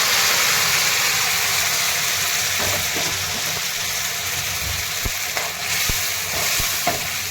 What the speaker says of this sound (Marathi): आता हे शिजलेले वांग टाकून घेते